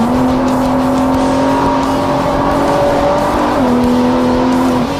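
A Cobb-tuned Nissan GT-R's engine drones loud and close under light throttle, holding a steady pitch that shifts slightly partway through, with no voices.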